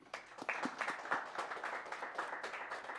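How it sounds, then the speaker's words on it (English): Scattered audience applause for a presenter at a winter satellite workshop, a brief burst of clapping from a modest crowd, fairly faint and distant, with some murmur mixed in. "we give the presenter an applause and we continue."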